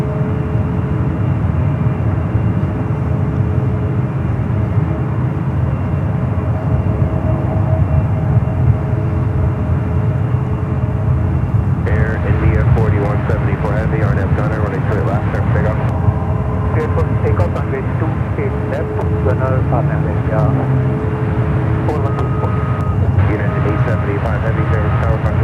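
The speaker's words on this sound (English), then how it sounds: "A321neo is up next for arrival on the" Airbus A321neo airliner arriving on runway 28 right at San Francisco International Airport, a loud continuous engine roar heard from a distance, holding steady and then shifting in tone partway through as the jet passes.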